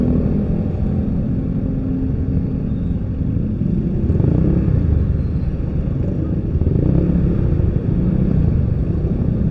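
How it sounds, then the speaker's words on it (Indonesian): Congested traffic in Cigombong with many motorcycles, a steady dense engine drone of idling and creeping bikes and cars, close and continuous, swelling slightly in places, with no talk. "Pokoknya kita nikmatin dulu aja lah kemacetan di sini kayak gimana"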